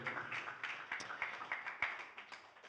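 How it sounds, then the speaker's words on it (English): Quiet studio audience applause after a Sonic Salon session, a small room of people clapping in a steady patter of soft, uneven claps for about three seconds with no talk over it. "Give up another round of applause to Reza and this incredible studio"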